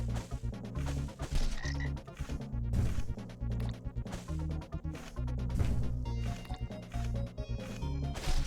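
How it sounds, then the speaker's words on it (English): A frog explodes in a Steam video game, with croaking calls and sharp crashing bursts layered over steady tonal game sounds that run continuously throughout. "Stupid frog explosion."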